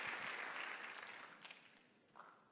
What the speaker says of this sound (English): Let's give our panel here a big round of applause